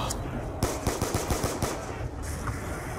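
Rapid bursts of automatic gunfire from the Nuketown Zombies video game, a tight string of loud close shots clustered in the middle, with game ambience around them.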